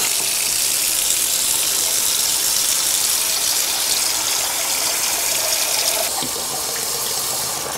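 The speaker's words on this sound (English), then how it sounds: "Let me prove it by filling this basin with water." Water runs from a faucet into a sink basin with an unvented drain, a steady broadband gush that stays loud and even throughout, with a slight change in tone near the end as the basin fills.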